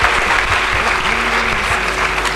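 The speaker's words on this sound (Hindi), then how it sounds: "इसके लिए भी ज़ोरदार तालियां होनी चाहिए." An audience at a national award ceremony breaks into loud, sustained applause, dense clapping filling the space steadily throughout with no break.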